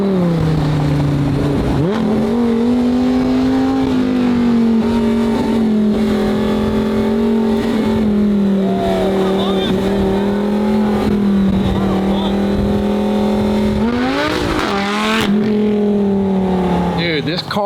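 A McLaren 720 GTR drives with a loud, close engine drone that holds steady for most of the stretch, then surges in a sharp rev toward the end.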